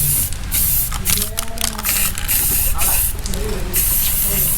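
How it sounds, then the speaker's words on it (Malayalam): An aerosol can sprays black paint onto a motorcycle crash guard in repeated short hissing bursts, loud and close, while someone talks between and over the sprays. "അപ്പം ഈ ബ്ലാക്ക് പെയിൻറ്റ് ഡയറക്റ്റ് അങ്ങ് അടിക്കാന്ന് വെച്ച്."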